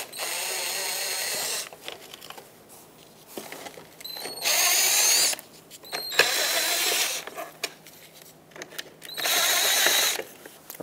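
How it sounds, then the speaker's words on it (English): A cordless power drill backs Phillips head screws out of a Mazda 6 front bumper during grille trim removal, sounding in four loud sustained whirring bursts separated by quieter pauses with small clicks and handling noises. "there are some Phillips head screws that we have to remove."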